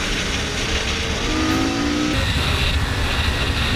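Superbike engine held on the throttle during a street race, a loud steady engine roar sweeping in pitch with a tonal rise in the middle, close and continuous with no talk.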